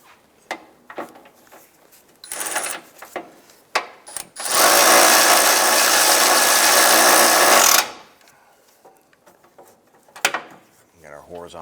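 A power tool drives engine mount bolts snug on a 2001-2005 Honda Civic, one steady whirring burst lasting a few seconds, close and loud, set between scattered clanks and tool handling.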